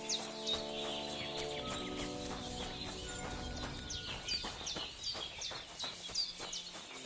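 Horse hooves clip-clop at a steady walking rhythm in the medieval open-world game Kingdom Come: Deliverance II, mixed with chirping birdsong and faint ambient tones, moderately close and fairly quiet.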